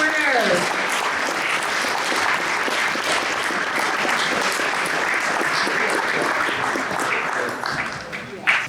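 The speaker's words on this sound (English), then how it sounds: "a round of applause for our first varsity letter winners" Banquet audience at a high school sports awards night applauds varsity letter winners, a dense sustained clapping that fills the room for about eight seconds before tapering, with some chatter mixed in.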